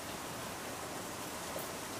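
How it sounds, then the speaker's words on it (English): Steady rain pattering onto the water of a fish pond, a dense, even hiss of droplets with no breaks, fairly close and unaccompanied by voices. "I like the water coming down and the wind and also the rain droplets on the water"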